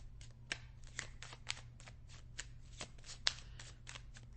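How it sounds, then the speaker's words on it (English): Tarot cards being shuffled by hand nearby, a series of crisp riffling snaps and soft slides at uneven intervals over a low steady hum, with no talking. "I'm going to pull one more card for this."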